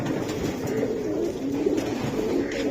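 Silver Giribaz pigeons cooing, soft low repeated coos blending together at close range against a faint background, with no talk.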